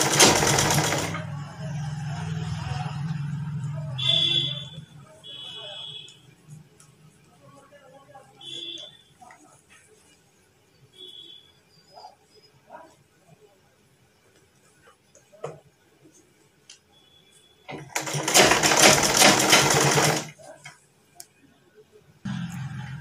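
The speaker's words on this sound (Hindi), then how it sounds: "अब बाजू के इस साइड हमने अच्छी तरह लुप्पी को सेट करके सिलाई लगा लेनी है।" A sewing machine stitches the sleeve of a garment in bursts. Loud, rapid mechanical whirring opens the stretch, then quieter handling clicks and rustles fill the middle, and a second loud stitching run follows near the end.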